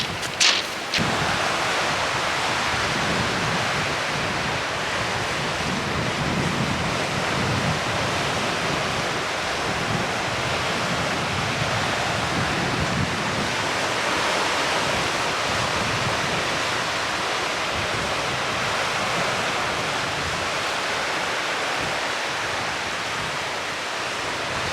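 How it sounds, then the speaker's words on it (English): On a UK sea shore at the Isle, an incoming tide rolls in under strong wind, forming a loud, constant broadband rush of surf and gusts that persists without pause and with no voices. "that tide's coming in"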